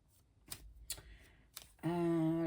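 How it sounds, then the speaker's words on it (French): Oracle tarot cards are shuffled and drawn in a few crisp riffles and slaps, close by, before a sustained voiced sound takes over at the end. "je vais retirer ces cartes"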